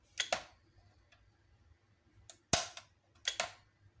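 A 20A automatic transfer switch relay with pilot lamp switching on, giving a few sharp, close mechanical clicks spaced apart, with quiet pauses between them.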